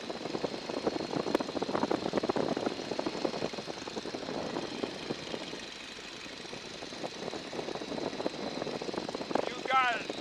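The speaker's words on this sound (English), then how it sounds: "Line up the Stearman with runway 17." A Stearman biplane's engine drones steadily on approach to the runway, a continuous broad rumble that holds throughout, with a voice talking over it.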